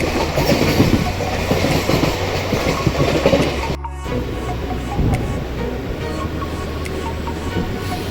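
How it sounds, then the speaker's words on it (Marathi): A Mumbai local train bound for Churchgate rumbles along the rails with a continuous loud roar and rhythmic wheel clatter, heard from on board, with a brief dip in the noise midway. "ट्रेन आहे 6:44ची चर्चगेटसाठी"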